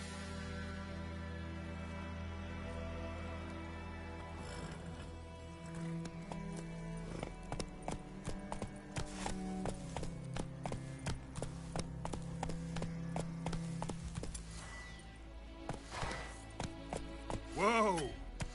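A horse trots along in The Witcher 3, its steady clip-clop hoofbeats running over game music and ambience, ending in a whinny near the end.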